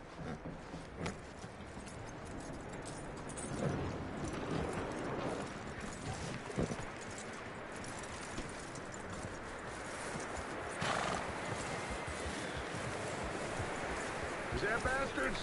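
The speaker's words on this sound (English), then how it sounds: "That looks like a decent horse." In a video game, horse hooves clip-clop steadily through the scene alongside a continuous rustling background, with a voice talking over part of it.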